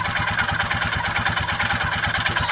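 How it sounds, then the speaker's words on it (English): A Royal Enfield Himalayan motorcycle engine idles just after starting, a steady, close, even thumping beat that holds throughout with no talk over it. "When you start the engine, let's start it."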